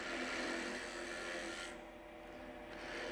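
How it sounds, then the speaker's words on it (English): A spindle gouge hollows a small cup into a wooden workpiece spinning on a lathe, giving a steady close rasping scrape that eases briefly midway and then resumes. "So I'm just taking my spindle gouge and going in and hollowing that out."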